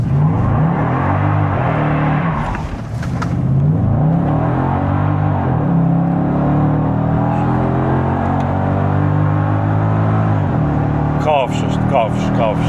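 Mercedes SL55 AMG R230 V8, a roughly 20-year-old car, revving close by in repeated rising and falling sweeps that stay loud throughout, with a short burst of higher-pitched noise near the end.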